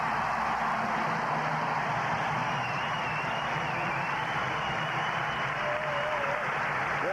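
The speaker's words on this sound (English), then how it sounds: "If he does, he's going to get a thunderous applause." A packed college basketball arena crowd, North Carolina against Duke, applauding a departing player: dense, sustained clapping and cheering filling the whole stretch at an even, distant-sounding roar.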